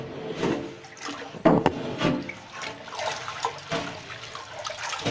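Soybeans for tempeh being stirred by hand in a container of water to wash off debris, giving a steady close sloshing and swishing with a few sharper splashes, no talking.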